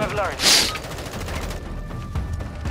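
Gunfire from a Type 56 rifle in Call of Duty: Modern Warfare II, a short loud burst near the start followed by a busy game soundscape, with a voice talking over it.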